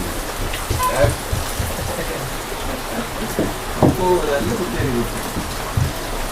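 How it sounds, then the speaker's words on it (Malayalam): Heavy rain pours down outside in a steady, dense hiss that fills the whole stretch, with voices talking faintly over it. "നല്ല മഴ പുറത്തേക്ക് ഇറങ്ങാൻ പറ്റില്ല"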